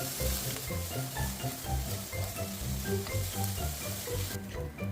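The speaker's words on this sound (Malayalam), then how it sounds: "ഇതെല്ലാം ഒന്ന് ഒരു ഷാലോ ഫ്രൈ ചെയ്തെടുക്കാം" Vegetables shallow frying in a pan for restaurant-style chicken fried rice, a steady close sizzle with rhythmic stirring or scraping pulses throughout, no voices.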